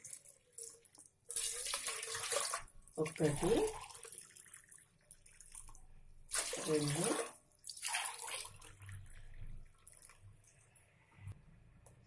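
Water pours from a vessel into a cooking pot on a stove in two bursts, a splashing gush each lasting about a second, with a person talking quietly between and around the pours.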